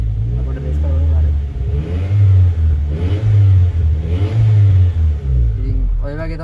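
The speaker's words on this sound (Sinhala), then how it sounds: "ඔන්න ඔය වගේ තමයි turbo time එකේ සද්දය එන්නේ" Toyota Starlet Glanza V engine with a turbo timer, revving up and falling back several times at close range, with someone talking over it.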